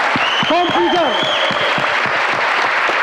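A studio audience at an Ethiopian quiz show claps steadily throughout, with a dense patter of hands that stays level under a presenter's voice.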